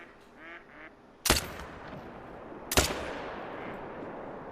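Two sharp, loud AR-15 .223 rifle shots ring out about a second and a half apart in a deer hunting video game, each with a short decaying tail, following faint earlier sounds.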